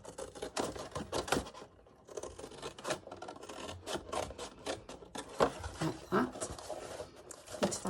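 A blade cutting through a cardboard box, repeated rasping, scratchy strokes in short bursts with brief pauses, close up, with quiet speech at times.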